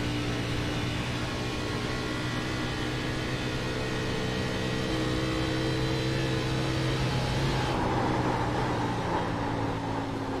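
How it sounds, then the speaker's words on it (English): A race car's engine drones steadily in a sim racing video game as it heads into turn 3, a continuous mechanical hum with a slight shift in pitch near the end and no talk over it. "This car sounds really funny."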